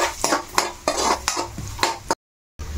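Coconut pieces fry in a pan while being stirred, giving repeated close scraping strokes in a steady rhythm over a light sizzle, followed by a brief silence.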